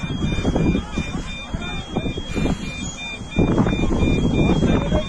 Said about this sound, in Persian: تمام الارمای هواپیما روشن شد